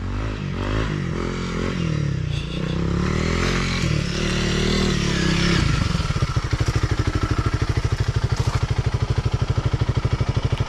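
Trail motorcycles revving and climbing a steep, rough mountain trail, loud and close with engine strain, clattering over rocks, then settling into a steady rapid idle-like putter.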